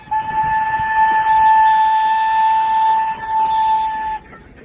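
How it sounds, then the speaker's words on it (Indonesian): A toy train sounds its steam whistle in two shrill steady tones over a hissing steam noise. The blast holds for about four seconds and then stops abruptly. "ada kereta api."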